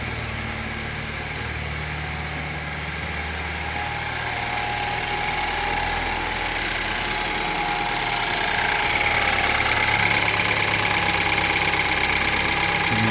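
A BMW N20 engine runs at a steady idle after a full timing chain replacement, a close mechanical hum with a light ticking clatter that grows slightly louder partway through, with no talk.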